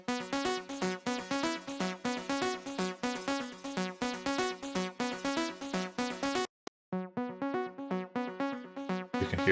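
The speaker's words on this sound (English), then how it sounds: "I used Massive, this sort of a saw wave sound. This here EQ is used as a sweeping effect" Massive software synth playing a bright saw-wave part with an EQ sweep, a busy rhythmic stream of buzzy harmonic-rich notes that cuts out briefly near the end, then returns.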